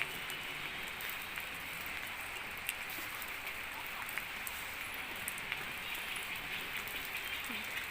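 Rain falling outdoors as a steady, even hiss with scattered small patters of drops, constant throughout and alone with no voices.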